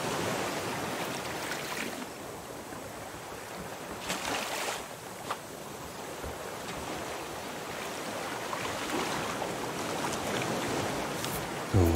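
Ocean waves in the Raft video game, a steady rushing wash of water with a few louder surges, continuous and fairly close, with no talking.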